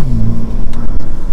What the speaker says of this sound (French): ça fait un bruit vraiment sportif